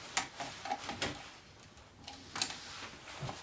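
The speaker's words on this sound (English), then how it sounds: "Let's hurry and sew it" A sewing machine stitches a crossbody bag in short, quiet runs of ticking needle strokes, separated by brief pauses.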